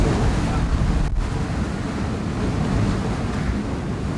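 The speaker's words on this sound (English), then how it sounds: "25 to 27 knots sustained wind for over 12 hours now." Strong wind of 25 to 27 knots roars over a sailboat in near-gale conditions on passage from the Marquesas, while huge waves rush and wash beneath a constant, loud, dense blast of noise.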